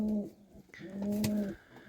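Domestic pigeons coo in two low, rounded phrases, close and clear, with a short pause between them and a brief flutter or scrape in the middle.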